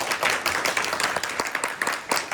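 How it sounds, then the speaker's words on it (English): An audience at a comedy hypnotist show on a seaside pier claps steadily in a dense, moderately loud patter that stays even throughout, with no speech over it. "Do you think that you could clap louder than that?"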